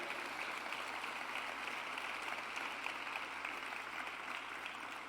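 A church congregation applauding, steady sustained clapping from a large crowd that holds an even level from start to finish.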